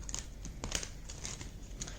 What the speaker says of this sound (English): Alright, shuffling is done.